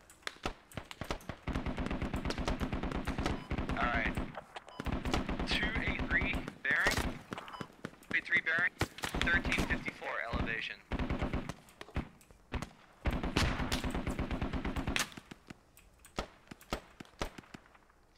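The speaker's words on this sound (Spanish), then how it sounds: "Quién sabe de dónde vendrán esos putos disparos." Rapid bursts of gunfire crackle through a Squad video game match, with bursts repeating across the whole stretch while players talk over them.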